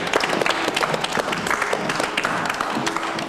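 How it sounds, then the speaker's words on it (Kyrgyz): Studio audience at a Kyrgyz dating-show taping claps steadily, a dense sustained applause with crowd noise throughout, fairly loud and close. "кол чаап коелу анда."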